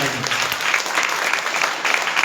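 Church congregation clapping hands together during worship, a dense, steady applause from many people sustained throughout, fairly loud and near.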